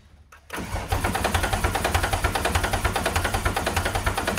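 A Porsche GT3 race car engine, wrecked and just primed with oil, cranks and catches at about half a second, then runs on in a loud, steady, rapid pulsing idle that sounds slightly rough.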